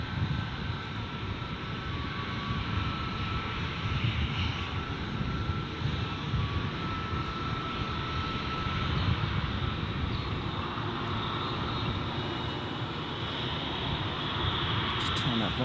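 Air New Zealand airliner engines roar at Gold Coast Airport, a loud, sustained broadband rumble with a steady whine that holds throughout, while voices talk faintly underneath.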